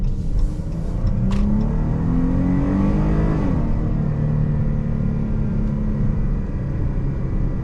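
A Chrysler 300 with a V6 accelerates hard from inside the cabin, the engine note climbing through a shift and settling into a loud, sustained droning pull with heavy road rumble, no talk.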